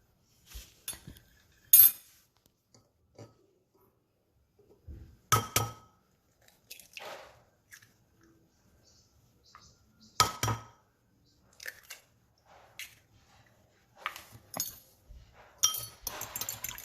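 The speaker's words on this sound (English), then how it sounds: "I will crack my eggs" Eggs cracked for egg drop soup, with sparse sharp clinks and taps against a bowl, close and separated by quiet gaps, with no talking.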